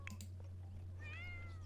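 A Sims 4 cat gives a short, quiet meow with a rising and falling pitch, set over a steady low game hum and faint background sounds.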